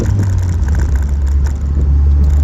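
A Pontiac Solstice GXP with a 2-liter turbo engine drones steadily and loudly close by, with a low engine hum that swells slightly near the end.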